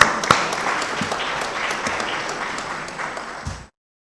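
A conference audience applauds at a forum on culture, arts and media in Pan-African unity. The clapping starts loud after a sharp knock, gradually thins and then cuts off abruptly into silence.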